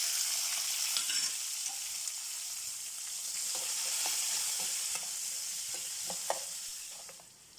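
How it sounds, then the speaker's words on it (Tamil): Mustard and cumin seeds spluttering in hot oil in a pan, a steady hissing sizzle broken by scattered sharp pops and crackles, fading slightly at the end. "கடுகு சீரகம் பொரிஞ்சதும்"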